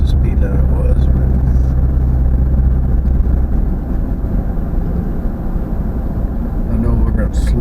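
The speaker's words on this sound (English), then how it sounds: "this truck is taking this hill mostly in 5th gear" A truck engine droning steadily while climbing a hill mostly in fifth gear at about 40 mph on a mountain road, a loud continuous low rumble filling the interior with little change.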